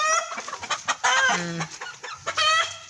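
Several hens cluck and squawk close by while competing over one laying nest among backyard poultry, with overlapping calls and a few louder drawn-out cries in quick succession.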